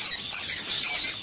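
Pigeons kept at a farm house call in quick, fairly loud bursts of chirps and squawks, overlapping and close by, with no talking.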